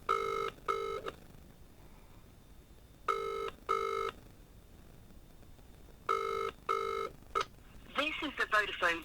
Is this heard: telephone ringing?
yes